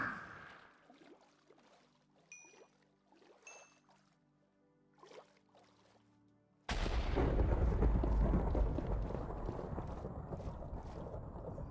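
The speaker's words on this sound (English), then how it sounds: "I feel like every time I use my trident, it's creating thunder." Thunder from a trident strike in Minecraft Bedrock Edition, a sudden loud rolling crash that bursts in after quieter game sounds and rumbles on without fading.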